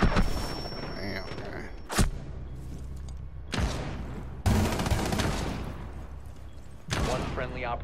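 Video game gunfire in a tactical shooter match: several loud bursts and bangs land in irregular succession over a steady noisy background, with repeated broadband blasts spaced a second or two apart.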